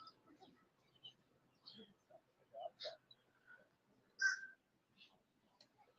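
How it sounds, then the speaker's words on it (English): Two crows caw outdoors in scattered, separate calls, several of them fairly clear and one louder near the end, over a quiet background. "Is that a crow? Yep. Two crows out here."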